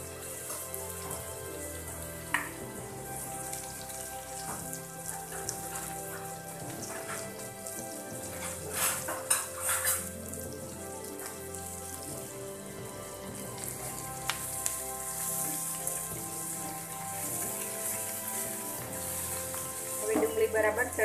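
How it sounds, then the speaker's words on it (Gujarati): Onions cook in a pan for stuffed gunda curry, giving a continuous fine crackling sizzle like light rain with occasional faint stirring clinks, close and steady throughout. "ડુંગળી નાખ્યા બાદ આપણે ફરી તેને 2 મિનિટ માટે ચડવા દઈશું."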